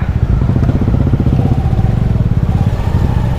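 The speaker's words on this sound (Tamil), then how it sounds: "ஸோ இங்கே 3 வண்டி, ஒரு நிஞ்சா 300, அப்புறம் ஒரு புல்லட் 350, அப்புறம் ஒரு டாமினார் 400." Three motorcycles, a Kawasaki Ninja 300, a Bullet 350 and a Dominar 400, idle together close by, a loud steady overlapping engine thrum with a rapid pulsing beat and no talk.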